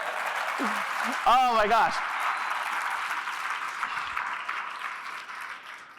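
A conference keynote audience at RailsConf 2023 bursts into steady, full applause that fills the room, while a voice briefly exclaims over the clapping near the start and the ovation then slowly fades.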